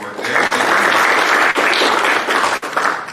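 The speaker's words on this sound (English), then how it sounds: "Let's give Gary a round of applause for your work there" An audience at a mayoral candidate forum applauds the moderator, loud close clapping from a crowd that carries on with a few brief dips, with no talking over it.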